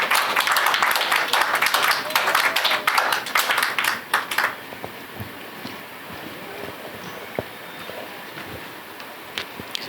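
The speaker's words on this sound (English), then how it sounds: "A huge round of applause for the new beginning of IDEABAAZ and Punjab Angel" A round of applause from a panel discussion audience, dense clapping for about four seconds that cuts off into quiet room tone with a few scattered taps.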